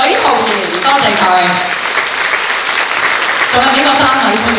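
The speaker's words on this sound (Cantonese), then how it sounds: "俾啲掌聲佢哋嘅" A theatre audience applauding steadily at a stage play's curtain call, loud continuous clapping that fills the room while a voice talks over it.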